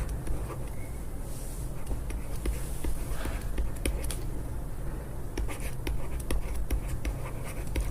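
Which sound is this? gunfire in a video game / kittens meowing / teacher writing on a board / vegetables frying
teacher writing on a board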